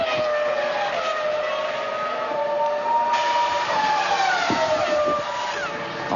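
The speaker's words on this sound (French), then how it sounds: "Il y a un petit bruit bizarre, non, Jacques, sur la voiture de Räikkönen?" A 2003 Formula 1 car, Räikkönen's, at the Australian race screams past on a long straight with a sustained high engine note that shifts in pitch under broadcast crowd noise.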